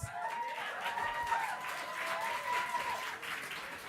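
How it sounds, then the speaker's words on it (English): Steady audience applause after a political candidates' debate night, broad and continuous across the whole stretch, with some crowd noise mixed in. "a round of applause to the candidates"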